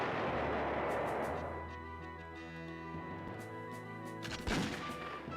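Artillery fire in the PlayStation wargame Panzer General lands as a few booming blasts and a sharp pop over a layer of droning tonal game music, moderately loud throughout.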